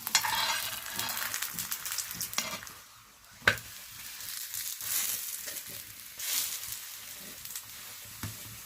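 A sweet flatbread (rot) sizzling and frying in a pan, with steady crackle and occasional scraping or stirring touches, fairly quiet and close, with no talk.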